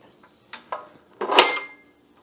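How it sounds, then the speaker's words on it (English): A KitchenAid Pro 6-quart stand mixer bowl is raised: a few light metallic clicks, then a louder clunk and scrape as the bowl locks into place, close and otherwise quiet. "Oh, because I need to raise the bowl up."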